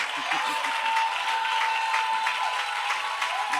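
A church congregation applauding and cheering, a steady dense wash of clapping and acclaim with a sustained tone running through it.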